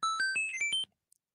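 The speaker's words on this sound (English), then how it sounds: "my current sound on my phone for text messages." A short melodic text-message alert tone on a phone, a quick run of about six bright chimed notes stepping up in pitch, loud and clean, then silence.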